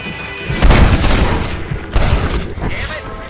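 Gunshots ring out in Red Dead Redemption, two loud booming reports about a second apart with rattling echo after each, close and punchy, followed by a brief voice.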